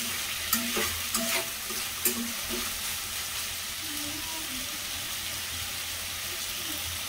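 Chicken pieces frying in oil for homemade restaurant-style butter chicken, giving a steady close sizzle and hiss with a few clinking stirs early on, no talking.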